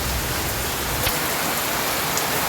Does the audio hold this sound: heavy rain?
yes